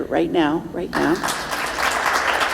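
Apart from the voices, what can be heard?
audience applause at gala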